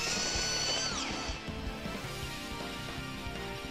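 A harsh mechanical drilling whir with grinding, crunching impacts, loud and continuous, set against busy game sound effects and music, from a drill attack in the video game Lost Heroes: Bonus Edition.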